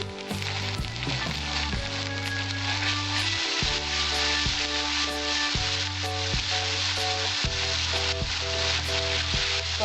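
Cumin and chili paste sizzle in hot oil in a pan for katla fish kalia, a steady close frying crackle broken by repeated rhythmic scrapes of a stirring spoon.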